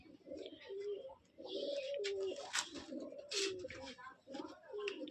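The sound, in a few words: Giribaz pigeons cooing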